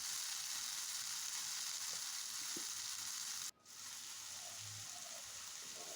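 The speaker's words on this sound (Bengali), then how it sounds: "এখন নেড়ে চেড়ে পেঁয়াজটাকে ভেজে নিব।" Onions sizzle in hot oil in a pan with a steady close hiss, a couple of light stirring clinks, and a brief break midway before the frying resumes.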